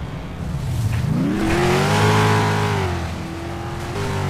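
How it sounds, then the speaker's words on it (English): A race car engine in the Flatout racing game revs up and holds a strained, rising then falling drone for several seconds, loud and close, with no talking over it. "Love the engine on this thing"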